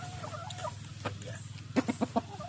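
Eight-to-nine-month-old chickens cluck softly nearby, a few scattered clucks followed by a quick run of four louder ones, over a quiet background hum.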